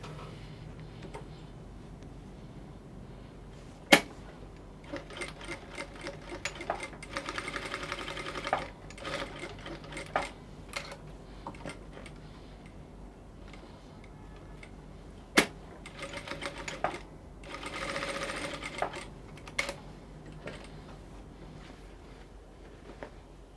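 A sewing machine stitches the side seam of a wrap dress in quick mechanical bursts separated by short pauses, with sharp clicks and thumps from handling. It is moderately close, and no one speaks.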